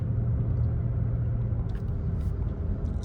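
A SEAT Tarraco at full throttle, a dull, steady low engine rumble with road noise heard from inside the cabin, brief and fairly subdued.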